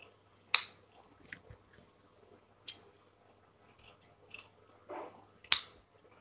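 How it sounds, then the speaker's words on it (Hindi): Scissors snip away excess blouse fabric while a double katori blouse sleeve is being fitted; a handful of sharp, isolated cuts sound close by in an otherwise quiet room, spaced irregularly with soft rustling between. "अभी एक्स्ट्रा यहाँ पे काट कर लो"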